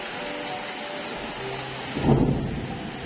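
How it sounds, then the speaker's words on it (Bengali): Steady rain hisses throughout, then a deep roll of thunder swells in near the end and slowly rumbles away. "ঘুম থেকে ওঠার পরে দেখি এমন একটা বৃষ্টি এসেছে"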